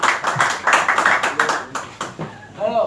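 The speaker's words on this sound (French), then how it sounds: "On va applaudir nos clients quand même." At a corporate after-work event on hybrid IT strategy, a crowd claps in a burst of distinct, fairly close hand claps that taper off, then a voice starts speaking near the end.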